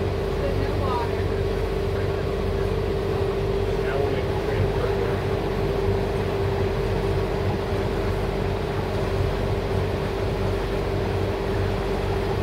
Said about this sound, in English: This is a twin engine boat, no bow thruster.